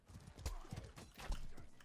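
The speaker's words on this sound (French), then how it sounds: "Vas-y, je prends le cheval, je m'arrache." Horse hooves clip-clopping at a gallop in the medieval combat game Mordhau, a quick uneven run of dull thuds under faint game noise.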